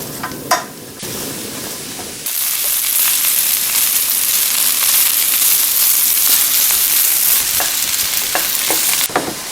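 Korean sundae sausage sizzles and is stirred in a pan over high heat with chili and ginger: a steady, loud frying hiss with occasional scraping and clatter, preceded by a few brief knocks.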